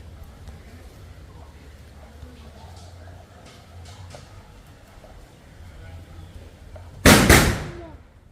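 Firecrackers bursting at a Pongal celebration, one loud sharp blast near the end with a brief decaying tail, following a long stretch of low outdoor background.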